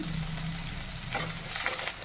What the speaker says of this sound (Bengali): কড়াইতে দিয়ে দিলাম সর্ষের তেল, দিয়ে দিলাম পেঁয়াজ কুচি